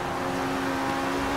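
A Ferrari 488 GTB Pista engine in the Forza Horizon 3 video game holds a loud, steady high-revving drone with a strong tonal whine throughout, with no talk.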